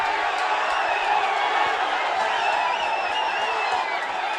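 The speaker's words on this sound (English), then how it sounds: "the crowd doesn't take it very kindly" Rugby match crowd at Kandy SC versus Havelock SC, a steady dense roar of voices and cheering from a large stadium audience, sustained and loud throughout without breaks.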